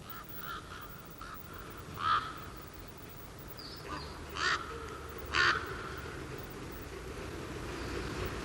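Ravens in a pine forest give a few loud, separate caws spaced several seconds apart, carrying over a steady rustling background with no voices.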